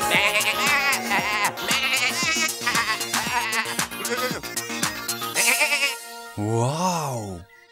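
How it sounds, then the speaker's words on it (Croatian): Cartoon sheep bleat loudly and often, their calls overlapping in a busy chorus. A smooth wavering tone, like a playful sound effect, closes the passage. "Misliš na ovce?"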